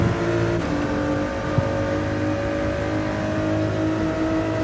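Race car engine in a racing video game holding a steady, loud high-revving whine with a sustained tone throughout, no talking over it.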